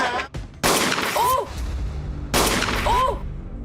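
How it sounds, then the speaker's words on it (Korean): Two loud, sharp gunshots crack about two seconds apart in an alley during a hostage crime, each blast sudden and echoing with a long decaying tail. "생각지도 못한 총소리였습니다"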